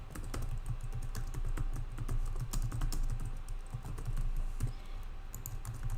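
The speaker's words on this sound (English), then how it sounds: "I'll just type the title in" Steady, fast keystrokes clatter on a computer keyboard, a continuous run of close, crisp clicks with no voices.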